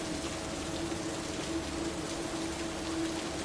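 Steady rain falls evenly, a soft constant hiss with no pauses, moderately quiet and alone.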